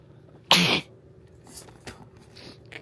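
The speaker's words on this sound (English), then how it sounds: "I didn't mean to sneeze." A single sharp, loud sneeze bursts out close by, followed by quiet rustling and faint small noises afterward.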